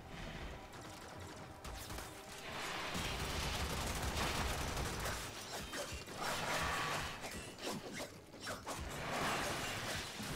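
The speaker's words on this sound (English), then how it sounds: "Let him shoot to his heart's content for a second." Sustained gunfire in the Warframe video game, a dense rattling, mechanical clatter of rapid shots that runs for several seconds with short lulls between bursts.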